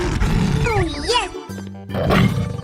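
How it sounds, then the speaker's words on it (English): A cartoon dinosaur roars loudly in a children's animal cartoon, a growling, wavering cry that rises and falls, broken by a short musical tone before a second rough roar follows. "dinosaurs,"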